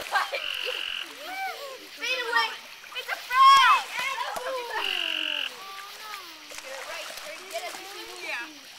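A frog croaking near water at night during a swim, with short raspy croaks scattered among splashes and excited children's voices, all close and fairly loud.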